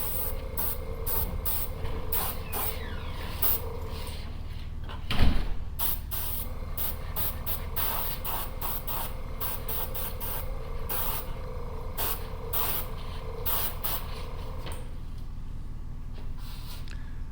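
Airbrush hissing as weathering paint goes onto the trucks of an HO scale empty coal train: a steady, close spray with brief on-off bursts and one louder thump partway through.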